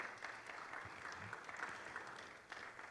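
An audience at a leadership talk claps together in a dense, even patter that carries on steadily, moderately loud, with no speech over it.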